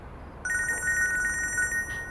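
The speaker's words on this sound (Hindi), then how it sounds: "फोन बज रहा है तुम्हारा।" A mobile phone rings with a steady electronic tone that starts abruptly and keeps going, clear and fairly close, with no talk over it.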